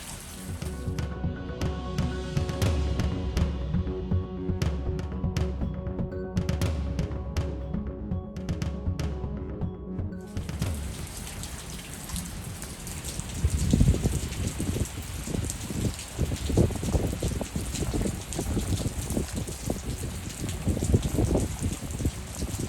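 During a storm, heavy rain pours off the corner of a house roof with no gutters: a dense, steady wash of splashing water, loud and continuous, with a denser, rougher gush in the second half.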